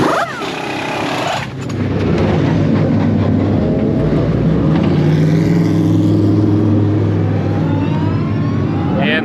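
Race cars roar out of the pit lane at Laguna Seca, a loud, dense engine roar that swells after a brief dip and carries on continuously, with no talking.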